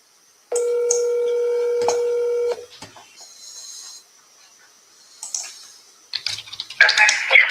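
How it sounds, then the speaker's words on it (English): Touch-tone keypad beeps as a cell phone number is dialed, a steady stacked tone for about two seconds, followed by faint clicks and a soft ringback, then brighter electronic bursts near the end. "Hi, you have reached Doreen Edmond cell phone"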